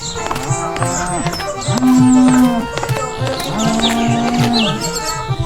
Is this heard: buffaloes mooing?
yes